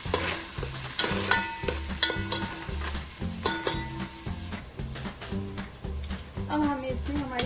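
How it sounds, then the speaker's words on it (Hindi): Onions fry in oil on a tawa for Mumbai-style veg tawa pulao, stirred with rhythmic spatula scrapes and knocks over a continuous sizzle. A background tune plays throughout. "अब हमें इसमें अनियन डालना है। इसे अच्छे से मिक्स करें।"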